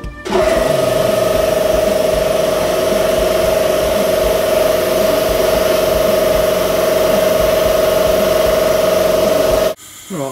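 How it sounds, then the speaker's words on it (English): An air compressor runs steadily at close range, a loud continuous mechanical drone with a strong sustained whine that holds level for about nine seconds before cutting off abruptly near the end. "Turn the air compressor on."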